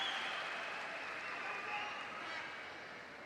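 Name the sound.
crowd applause for swimmer at Paralympic swimming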